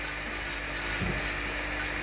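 An electric nail sander works on the cuticles while gel is removed, giving a steady high-pitched whine with a faint grinding rub as it touches the nail, close and continuous.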